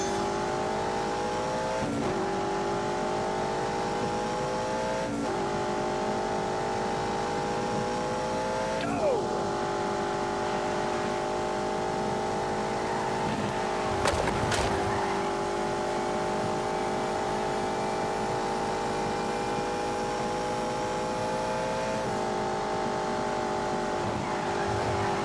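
A car with a V8 engine accelerating hard, its steady engine note climbing through the gears with brief dips at each shift, loud and close, with someone talking over it at times.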